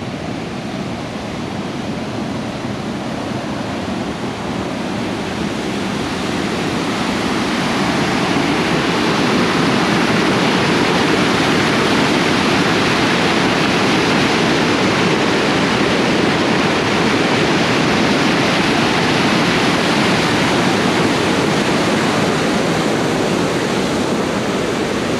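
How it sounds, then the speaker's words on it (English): A raging waterfall at springs, heard up close: a loud, unbroken roaring rush of falling water that fills the whole scene for a long stretch, with no voices over it. "Walk over here to the waterfall."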